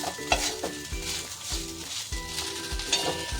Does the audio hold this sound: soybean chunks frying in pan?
yes